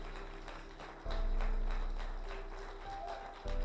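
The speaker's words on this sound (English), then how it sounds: "Give attorney Sean Arnold a round of applause." Quiet, steady clapping from an audience at a motivational speaking event, with a low hum running underneath and no voices over it.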